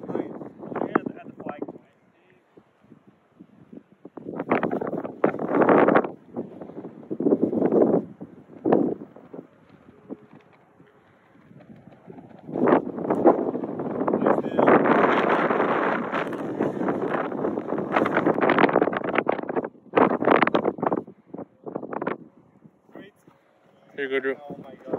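Strong wind buffets the microphone on a golf course, coming in loud sustained gusts with brief lulls, while people talk over it.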